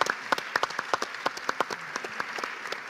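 An audience applauds a speaker at a biotechnology academy event, a short burst of scattered hand claps, fairly close and fading slightly toward the end, with no speech over it.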